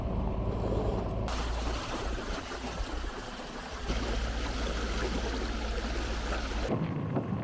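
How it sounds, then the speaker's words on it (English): A sailboat motoring under engine power in light wind off Moreton Island, a steady low engine drone blended with rushing water and wind noise, continuous and fairly loud. "We're motoring because there's like 5 knots of wind."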